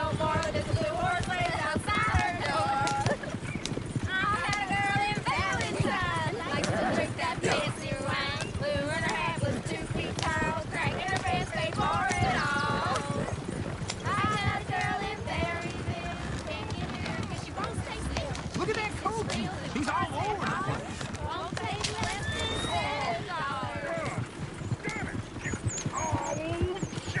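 Horse hooves clip-clop in a steady rhythm in Red Dead Redemption 2, heard alongside background game dialogue and voices throughout, with occasional louder character lines over the trotting.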